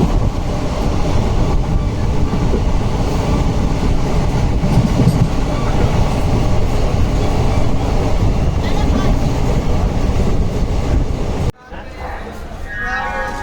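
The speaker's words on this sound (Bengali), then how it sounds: "তীব্র গতিতে ট্রেন এগিয়ে চলেছে।" A passenger train races at high speed toward Asansol, India, with a loud, steady rumble and rattling wheel clatter heard from on board, cut off abruptly near the end.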